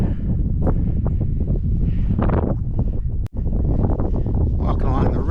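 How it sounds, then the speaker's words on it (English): A breeze blows across a mountain ridge on the way to Mount Monroe in the White Mountains, with the sky in cloud. Steady wind noise buffets the microphone for the whole stretch, with a brief dropout near the middle. "Nice breeze today. Not too windy, but enough to keep us a little bit cooler."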